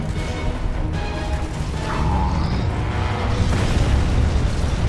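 Explosions from incoming fire in the Gears of War 2 video game: a steady, loud rumble of booms and bursts with mechanical clatter, continuous across the whole stretch and almost free of talk.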